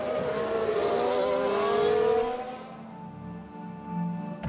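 Formula 1 cars racing and overtaking at the Bahrain Grand Prix in F1 Manager 2022, a loud engine whine sweeping in pitch as cars pass close by, then fading to a softer distant drone.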